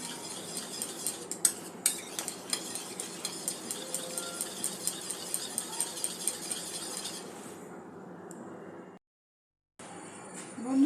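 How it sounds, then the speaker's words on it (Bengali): Egg yolk and white are beaten together in a bowl with quick, regular clinks of utensil against dish. The clinking continues close up for several seconds, then turns to a softer swishing and breaks off briefly. "ডিমটা ভালো করে ফেটিয়ে নিতে হবে। একটু সময় নিয়ে কুসুম আর সাদা অংশটা ভালো করে একটু ফেটিয়ে নেব।"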